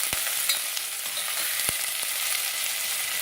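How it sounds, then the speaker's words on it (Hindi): Chopped onions sizzle in hot oil, a steady bubbling crackle with a few sharp pops and scraping clicks, heard up close with no voices. "इसमें हम डालेंगे, प्याज को फ्राई कर लेंगे।"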